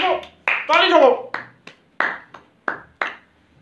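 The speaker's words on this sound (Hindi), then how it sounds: "गुरु ठोको ताली, ठोको ताली ठोको।" Sharp, separate claps ring out one at a time in an uneven rhythm during a Pakistan Super League gossip show biscuit-eating challenge, each a short, close smack that fades quickly, with voices in between.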